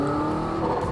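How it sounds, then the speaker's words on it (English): A McLaren W1 (1258 hp) engine running in sport mode, a loud, steady, close drone with strong low harmonics and no speech. "the sounds of this car really start to come alive more in sport mode"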